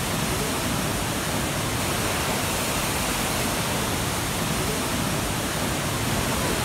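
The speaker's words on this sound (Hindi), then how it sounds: "यहाँ पे और एक दूसरा वाटरफॉल है।" Waterfall at Kanchenjunga Falls in Pelling, Sikkim, a steady broadband roar of falling water that stays loud and even from start to finish with no pauses.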